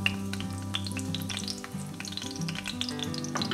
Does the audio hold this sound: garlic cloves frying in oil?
yes